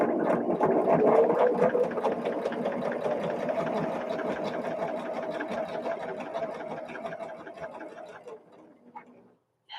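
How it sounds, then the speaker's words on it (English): A sewing machine runs steadily at high speed with a rapid mechanical chatter, close and continuous, then slows and stops near the end. "Run that sewing machine."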